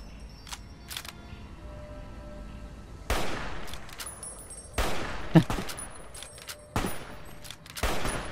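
Gunfire in Fallout New Vegas on hardcore difficulty during a fight with Cazadores: sharp, irregular shots ring out, some single, some in quick pairs, with a louder cluster of bursts near the middle.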